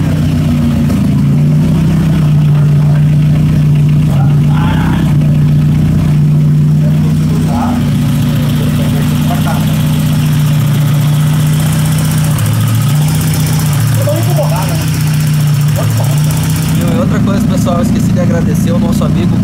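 A Subaru engine idling in a garage, a loud steady low rumble with slight rises in pitch, while people talk over it throughout.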